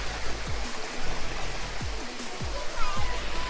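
A Jamaican waterfall pours with a continuous broadband rush, loud and close, while a person talks faintly underneath.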